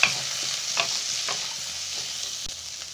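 Peas, cauliflower and beans fry in a pan for homemade veg fried rice. Soft, steady sizzling runs throughout, with a few light, scattered stirring scrapes up close and no speech.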